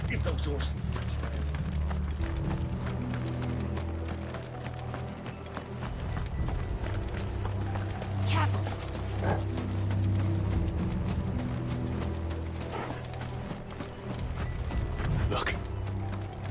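Rapid clip-clop of galloping horses in the video game Final Fantasy XVI runs steadily throughout, with a low rumbling backdrop and occasional sharp clatters.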